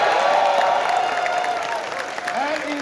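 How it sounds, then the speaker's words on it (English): An audience applauds at a festival closing ceremony, a dense, steady wash of clapping from a large crowd that tapers slightly toward the end. "when we hear the applause like that"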